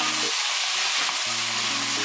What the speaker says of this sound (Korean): 양파가 살짝 익으면 나머지 재료들도 다 넣어서 볶아줍니다.